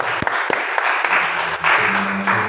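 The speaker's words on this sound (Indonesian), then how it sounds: "Tepuk tangan sekali lagi ya." A classroom group applauds after its members introduce themselves: a few scattered claps at first, then a thicker burst of clapping from a small crowd over a low background hum.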